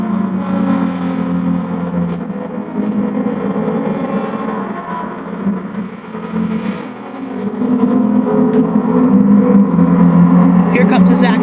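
A Nissan race car engine drones steadily around Daytona in Gran Turismo, a sustained mid-pitched whine that swells slightly toward the end, with a commentator talking over it.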